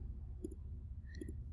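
Two quiet clicks of calculator keys being pressed, spaced under a second apart against a low steady background hum.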